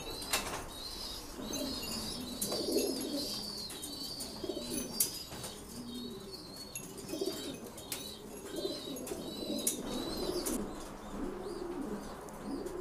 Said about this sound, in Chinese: 我感觉他已经发现少了一只鸽子，他在那里咕咕的叫